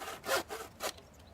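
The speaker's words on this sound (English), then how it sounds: "Cut a lintel to fit between the two posts on top of the door." A handsaw cuts a wooden lintel for a small greenhouse doorframe in three rasping strokes, close and clear, with no voices.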